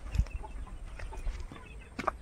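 Chickens at a village home in the Sundarbans, Bangladesh, giving a few faint, short clucks amid quiet outdoor background noise, with low distant rustling and no clear talk.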